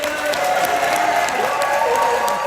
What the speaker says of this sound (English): give Lizzie a round of applause on 3